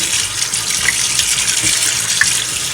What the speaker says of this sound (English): I'm just gonna rinse it a little bit